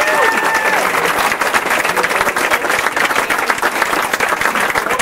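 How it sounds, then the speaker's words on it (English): A crowd applauds offshore racers at a charity event for the Shriners, dense continuous clapping lasting several seconds at steady loudness, with faint voices mixed in. "So a big round of applause one more time for all of these racers around here to try and help the Shriners"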